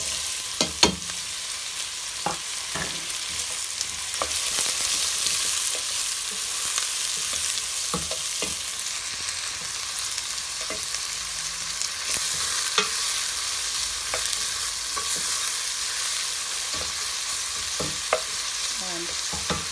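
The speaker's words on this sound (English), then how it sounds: "Now we add some chopped onion." Chopped onion frying in a pan alongside goat curry, a steady soft sizzle with scattered stirring clicks and scrapes, close and continuous throughout.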